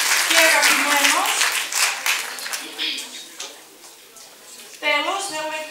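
Applause from parents and friends for the school association at a junior high school music performance, lively clapping that fades and then swells again, with speech audible over it.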